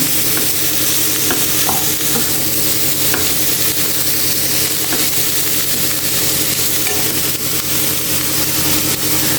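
Spinach thoran stirred in a pan, with a loud, continuous sizzle and scraping of the spatula throughout, steady and close with no voices.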